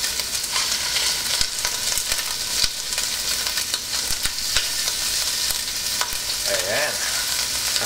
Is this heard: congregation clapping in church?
no